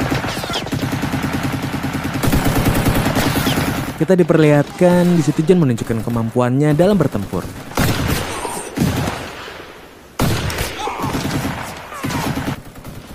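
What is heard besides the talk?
German machine gun fire in a World War I film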